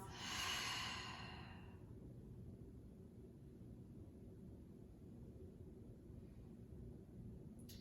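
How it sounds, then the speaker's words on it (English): During a power yoga session, one deep breath is exhaled audibly through the mouth as a soft, airy rush in the first two seconds, followed by quiet room noise. "let's take a deep breath together, inhaling through the nose. And exhaling out through the mouth"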